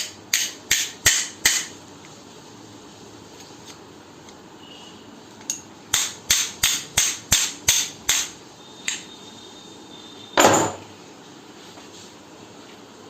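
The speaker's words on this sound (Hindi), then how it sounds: "हम इसको थोड़ा सा ठोक लेते हैं।" A hammer tapping a part into the square seat of a carpenter's curved-cutting saw, close and sharp, in two quick bursts of about five and seven blows, then a few isolated knocks.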